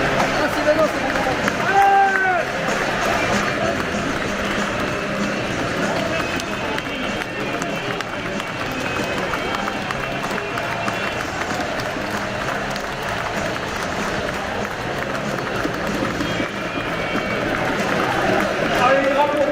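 A stadium crowd at the Stade Brestois 29 versus Stade Rennais derby fills the air with continuous loud applause and roaring, while a voice talks over the dense noise.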